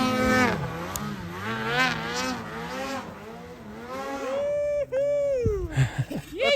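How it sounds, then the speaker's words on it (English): A snow bike engine strains up a steep snowy hill, its rising and falling drone audible alongside excited people talking and shouting nearby. "Here comes the snow bike. I don't know if it'll pull the hill."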